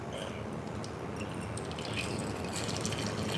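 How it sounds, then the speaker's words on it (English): Water pours and trickles steadily into a French press up close to preheat it, a soft continuous splashing that grows slightly fuller toward the end. "I just put a little water in there."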